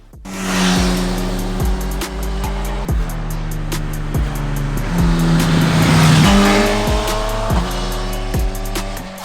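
Suzuki GSX-S1000 2023 maxi-naked motorcycle with a four-cylinder engine, revving loud and close through repeated rising gear pulls that each drop sharply at the shift, with no talk over it.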